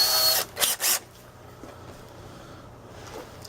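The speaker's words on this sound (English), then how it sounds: "So I'm going to go ahead and drill into my car here." A power drill bores a pilot hole into a car body, two or three short loud bursts in the first second, then near silence with faint handling noise.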